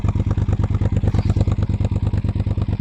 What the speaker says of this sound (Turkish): Ha bildiğin gümbür gümbür bir sesi var motorun.